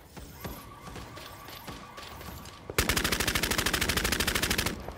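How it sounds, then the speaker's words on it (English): Automatic gunfire in the video game Bloodhunt: a loud, rapid burst of evenly spaced shots rattles for about two seconds, following quieter background game sounds. "Who's shooting like that?"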